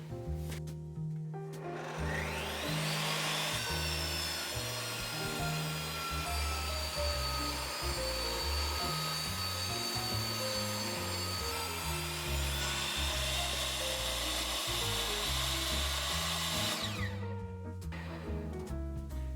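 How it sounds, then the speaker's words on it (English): A table saw fitted with a Diablo 24-tooth blade rips a strip of butternut wood, a loud steady whine with a tonal drone running through the cut before spinning down near the end. "I've thrown the Diablo 24 tooth on the table saw. Let's go ahead and rip us a 1 3/4 inch wide section of this."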